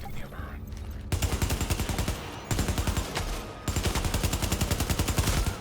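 A UMP 45 submachine gun fires in the video game The Division, in three loud, rapid full-auto bursts of evenly spaced shots after a brief quieter lead-in.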